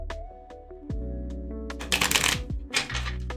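A deck of Earthbound Oracle cards is shuffled during a tarot reading, with close, papery riffles and slaps that build into a few louder flurries. Soft tonal music plays underneath.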